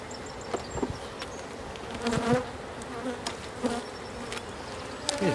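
Honey bees buzzing in an opened beehive during a spring inspection, a dense continuous drone of many wings close by, with occasional louder passes of single bees and light clicks of hive parts.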